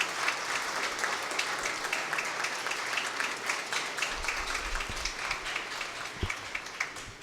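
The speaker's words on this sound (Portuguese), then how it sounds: "eu queria pedir uma salva de palmas para os nossos servidores da Câmara Municipal de Itanhaém" An audience at a Câmara Municipal de Itanhaém ceremony opening its legislative school applauds the chamber staff, steady dense clapping filling the room throughout, with a few low thumps near the end.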